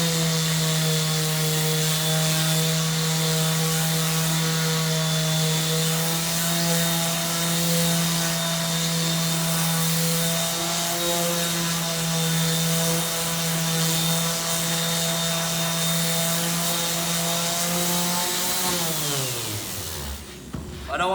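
A power sander works across a wooden lamp table top with a loud, steady motor drone that holds an even pitch for most of the run, then winds down and stops near the end.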